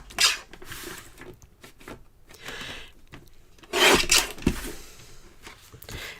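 A 5x7 card base is trimmed with a series of short rasping, rubbing slides of blade against card, some strokes louder and longer than others, with no speech.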